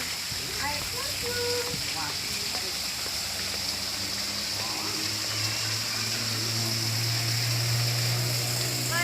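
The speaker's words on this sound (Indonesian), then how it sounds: "Air terjun." A waterfall in the orchid garden at Kebun Raya Bedugul in Bali gives a steady, continuous wash of falling water, while nearby voices chat over it throughout.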